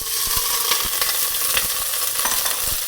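Shrimp shells sauté in olive oil in a pan after the garlic has been removed. A loud, dense sizzle continues throughout, with scattered crackles and scraping stir sounds close up and no talking.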